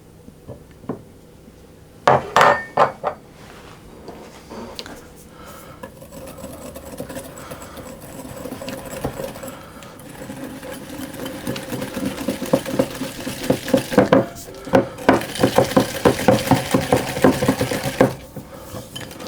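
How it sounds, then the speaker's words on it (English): Egg yolks, 60 grams of them, being mixed into a paste for a strawberry tart, with a utensil scraping and clinking against a bowl in repeated bursts, close and moderately loud, with no talking. "I'm going to add in my eggs, or my egg yolks should I say, the 60 grams of egg yolk, and I'm going to mix those into a paste"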